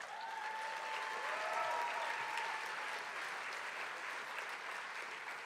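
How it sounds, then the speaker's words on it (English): Sustained applause from a keynote audience, steady and fairly close, swelling slightly in the middle before easing a little toward the end. "Would you give a clap for them?"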